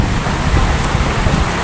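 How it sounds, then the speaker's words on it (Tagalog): Steady rain falling outdoors during a storm, a dense, even hiss with no talk, loud and close for under two seconds. "Yan, tuloy pa rin ang ulan."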